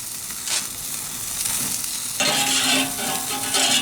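Burgers sizzle on a Member's Mark kettle grill, a steady loud frying hiss, with a brief scrape and a surge of sizzle as patties are flipped.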